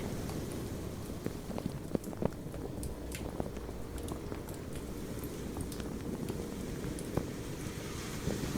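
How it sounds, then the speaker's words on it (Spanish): Light rain falls steadily beside a beach campfire, a soft, even hiss with scattered faint crackles and ticks throughout, quiet and close, with no speech. "La lluvia."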